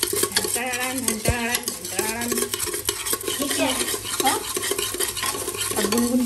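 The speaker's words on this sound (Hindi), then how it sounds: "तो मैंने इसमें डाल दिया तड़का, गैस को कर दूँगी तेज। इसको थोड़ा पकाएंगे 2 मिनट के लिए," Tadka tempering in a pan on a gas stove, with metal spoon stirring and scraping against the pan over a light sizzle, close and busy throughout.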